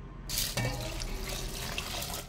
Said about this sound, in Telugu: ఇప్పుడు అందులోకి కొంచెం పసుపు వేసుకోవాలి, అలాగే అందులోకి కొన్ని వాటర్ వేసుకొని స్టవ్ మీద పెట్టుకోవాలి